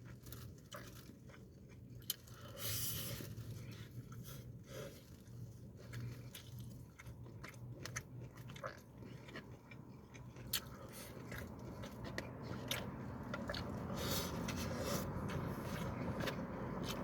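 Close chewing and crunching of a char siu fan meal, barbecued pork over rice with sauce. Soft, steady bites and mouth sounds run for the whole stretch with no talking, over a low room hum.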